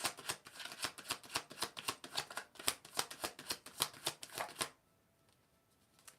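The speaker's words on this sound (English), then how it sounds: "When I was shuffling the cards" Tarot cards being shuffled in a rapid, steady run of crisp riffling flicks, close and clear, stopping abruptly near the end and leaving near silence.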